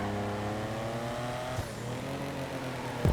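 Engine of the Tempesta supercar racing in the video game GTA 5, a steady high revving drone with gear shifts changing pitch and a sharp rev jump at the end, close and continuous.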